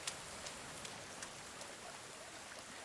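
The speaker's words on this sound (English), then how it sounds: "Of course it's raining." Rain falls steadily in the survival video game The Forest, a dense, even hiss with occasional sharper drop patters. It is heard alone with no talking.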